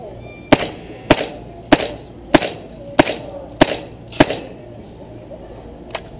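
A KWA TT-33 airsoft pistol fires at targets about 50 feet away, seven sharp snapping shots at a steady pace of roughly one every half second, then a pause and one fainter final shot.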